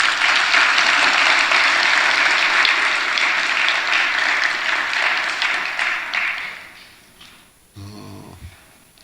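A church congregation claps in a dense, loud burst of applause that carries on steadily, then tapers away, followed by a short voice.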